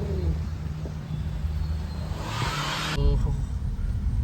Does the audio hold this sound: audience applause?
no